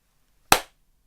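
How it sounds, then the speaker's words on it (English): A single sharp hand clap, made to sync a camera recording, rings out close and loud with a brief decaying tail, surrounded by silence. "Here's the clap"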